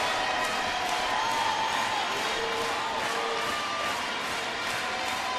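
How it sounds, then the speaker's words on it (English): A baseball stadium crowd at a Minnesota–Detroit game rises into a steady roar of cheering, a broad, continuous wash of voices and whoops heard from a distance. "Crowd's starting to come alive now for the first time really tonight."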